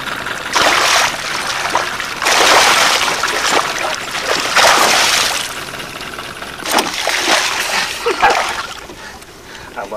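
A small muskie, hooked twice and played beside a fishing boat, thrashes and splashes at the surface in several loud bursts with gaps of quieter water between them.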